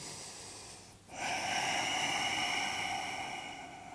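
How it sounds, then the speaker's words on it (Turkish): Deep yoga breathing during an intermediate dragon-series session: a short airy intake, a brief pause, then a long loud breathy exhale close to the microphone that gradually fades. "Derin bir nefes al ver."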